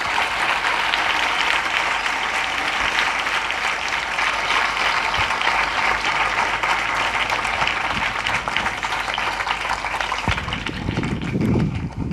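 A congregation at a diocesan closing Mass claps for the children, sustained full applause from a large crowd that stays loud and even, with a brief low rumble near the end.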